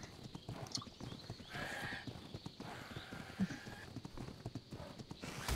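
Horse hooves clip-clop in quick steady steps in ARK Survival Evolved, with a neigh partway through, set against a faint wind-like background.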